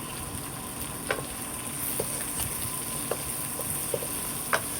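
Eggplant fries in a pan with a steady close sizzle, punctuated by occasional light taps and scrapes from stirring; no one speaks.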